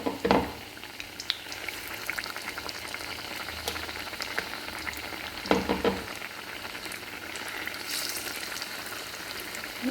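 Sweet potato pieces fry in hot oil, added a few at a time, giving a steady close sizzle with occasional louder spatters and bubbling bursts, with no talking.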